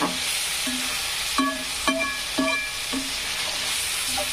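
Onions sizzling as they fry in a pan, a constant bright hiss with a few short metallic scrapes and taps from stirring.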